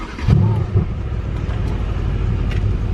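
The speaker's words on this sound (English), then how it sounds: "So you press the brake and you push on this button" Engine of a 2016 Mercedes C63 S AMG fires up with a sharp burst, then settles into a deep, steady rumble at idle, loud and close.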